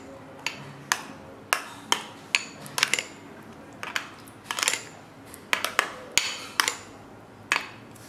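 Burger ingredients mixed together in a bowl, a spoon clinking and scraping against the dish in irregular sharp taps, fairly close and moderately loud, with no talking.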